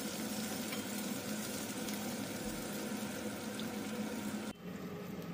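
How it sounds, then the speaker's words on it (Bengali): Baby corn and square-cut capsicum fry in a pan, giving a steady, dense sizzle that runs unbroken and fairly loud, easing slightly near the end, with no voices over it. "এবার সবগুলোকে ভালোভাবে ভেজে নিচ্ছি।"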